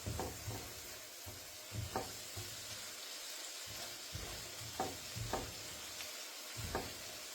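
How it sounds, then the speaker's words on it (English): Minced garlic stirred into a frying pan: soft, rhythmic scraping strokes of a utensil over a faint, steady sizzle, fairly quiet and close. "add in the minced garlic. Give it a nice stir."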